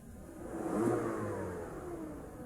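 A car engine with an unstable, fluctuating RPM idles steadily around 800 to 900 RPM, a low, close rumble that swells slightly and then settles, with no talking.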